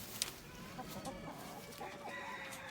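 Laying hens out on pasture cluck softly and intermittently over a low outdoor background, with no people talking.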